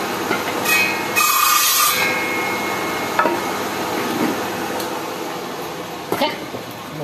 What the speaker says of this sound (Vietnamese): tại này mình có cưa thì mình cắt nó